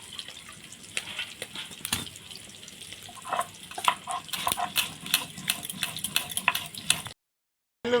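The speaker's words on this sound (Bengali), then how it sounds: "আলু ভালো মতো ভাজা হয়ে গেছে" Potatoes frying in oil, giving a soft, crackling sizzle with irregular sharp pops and spatters, fairly quiet and close, ending in a brief silence.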